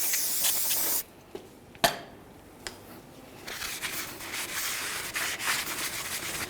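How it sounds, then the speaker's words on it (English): Aerosol cleaner sprayed onto the backside of a front brake rotor on a 2003-2011 Mercury Grand Marquis, a steady hiss in bursts at the start and again later, separated by a short quiet pause with a clack. "let's clean up the backside of our brake rotor"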